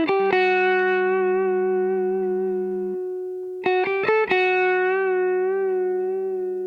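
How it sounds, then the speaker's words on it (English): Dry electric guitar soloed through an amp simulator, playing sustained chords with a brief pause and a few quick plucked notes before ringing out again, close and clear with no reverb tail. "So this is that guitar soloed."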